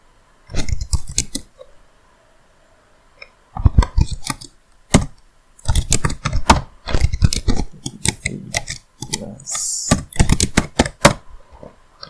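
Someone types a command on a computer keyboard in quick bursts of crisp, close key clicks, with brief pauses between clusters and no talk.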